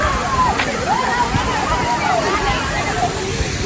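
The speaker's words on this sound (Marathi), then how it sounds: "तुम्ही बघू शकता इकडे धबधबा आहे, भाजे धबधबा दिले वॉटरफॉल." Bhaje waterfall near Lohagad during a rainy-season trek pours in a continuous rushing roar, with a crowd of people chattering faintly in the background.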